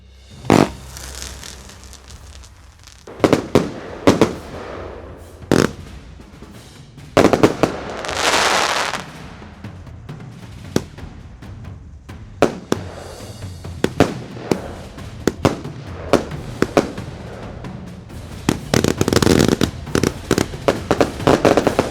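Fireworks from Rakettitukku going off outdoors: a long run of sharp, loud bangs and crackling bursts at irregular intervals, with a hissing whoosh midway and dense rapid-fire pops near the end.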